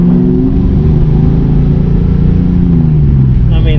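A 1994–95 Ford Mustang 5.0 liter V8 runs loud and close, its engine droning and rising in pitch as it revs, with voices talking over it.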